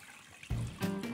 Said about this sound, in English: So we need to cover that with the remainder of the water here.